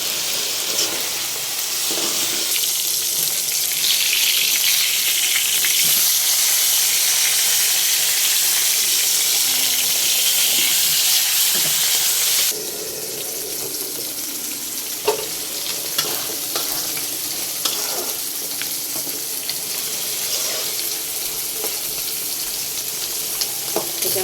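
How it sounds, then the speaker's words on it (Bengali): Loud, steady sizzling of rohu fish frying in hot oil, softening partway through but continuing with occasional crackles. "এখন আমি যে রুই মাছটা ভেজে নেব সেজন্য আমি তেল দিয়ে দিছি"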